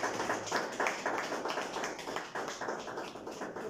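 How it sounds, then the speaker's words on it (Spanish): Church congregation at a Thursday evening service giving loud applause, a steady wash of many hands clapping at middling distance, sustained evenly for several seconds with no talk. "Dale un fuerte aplauso al Señor"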